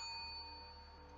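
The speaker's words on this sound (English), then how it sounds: "I have my own little Buddhist sort of chime here, you can hear it." A small Buddhist meditation chime rings once, a clear sustained metallic tone with shimmering overtones decaying softly in a quiet room.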